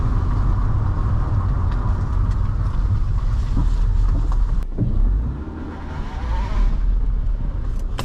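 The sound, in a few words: car in reverse gear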